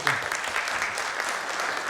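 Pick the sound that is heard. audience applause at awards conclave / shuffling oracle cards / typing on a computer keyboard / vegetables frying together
audience applause at awards conclave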